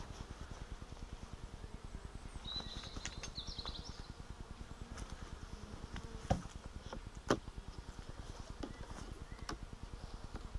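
Honeybees drone steadily around an opened beehive during a frame inspection, a constant low buzzing hum throughout with a couple of sharp knocks of wood or equipment.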